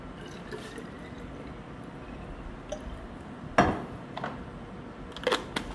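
A couple of short hissing sprays from a spray bottle misting water onto a geranium, over a quiet, faintly noisy room, spaced a second or two apart.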